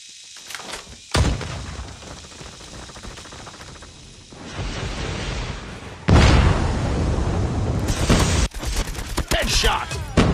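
A Shock RC explodes in COD Mobile among heavy battle noise: sustained rumbling bursts, a loud blast about two-thirds through, and dense overlapping gunfire, with no talk.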